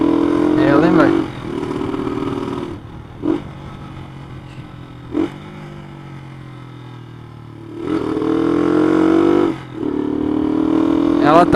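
A Honda CG motorcycle with a new Koso carburetor revs in repeated rising bursts between stretches of lower idle, its engine close and loud, with a rider riding it on the road.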